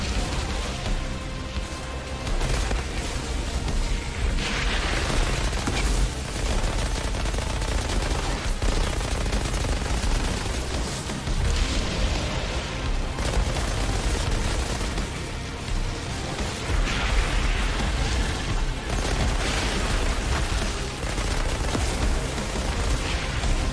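Gunfire and a homing firestorm attack in the Outriders Worldslayer video game: continuous loud shooting, booms and fiery bursts layered over one another for the full length, with no talking.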